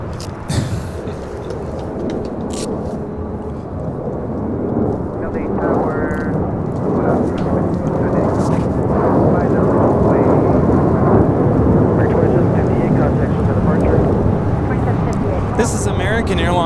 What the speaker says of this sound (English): Got that special retro U.S. Airways American A321 now departing.